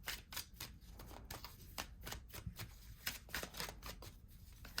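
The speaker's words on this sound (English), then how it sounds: "Let me grab some oracle cards for you." Oracle cards are handled and shuffled, with a rapid run of soft papery riffles and flicks, close but quiet.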